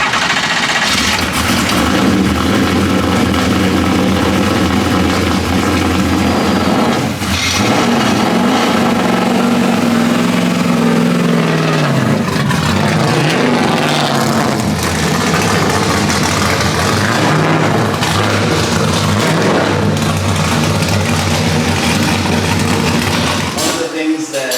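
A new engine fires up for the first time on a dyno in a room with a large fan, running loud and close with a rough idle, then a dip and a swell of revs, droning steadily throughout.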